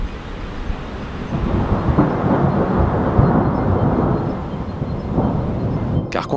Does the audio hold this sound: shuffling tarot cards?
no